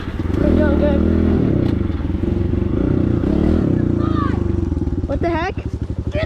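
A motorbike engine runs loud and close with a steady rough drone, rising briefly in pitch as it revs near the end, while people talk over it.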